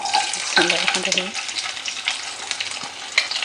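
Onions dropped into a hot pan and stir-fried, a crackling sizzle that flares at first, then settles into a softer fry with light stirring clatter.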